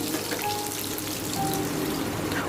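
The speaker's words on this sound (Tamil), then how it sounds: "இப்போ கைப்பிடி அளவு கறிவேப்பிலையும் சேர்த்துக்கிறேன். நல்லா இதை பொன்னிறமாக நல்லா வறுக்கணும்." Shallots and curry leaves frying in oil in a pan, a steady, even sizzle that holds at one level throughout.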